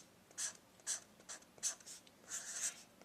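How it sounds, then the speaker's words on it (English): A pen scratches across a notebook cover while a name is written, a close, quiet series of short scraping strokes in an irregular rhythm with small pauses between letters. "you'll want to go ahead and write your name on your notebook"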